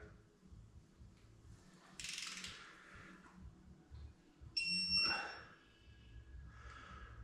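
A digital torque wrench ratchets on Duratec engine bolts during a Ford Fiesta ST 2.0 rebuild: a few faint clicks and ratcheting sounds, then a short high electronic beep as the set torque is reached.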